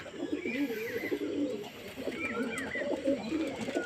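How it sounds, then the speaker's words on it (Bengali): Soft, repeated pigeon coos with a few faint chirps over a steady outdoor background, continuous and moderately close. "দেখুন বন্ধুরা পায়রাগুলোকে বাইরে বার করা হয়ে গেছে"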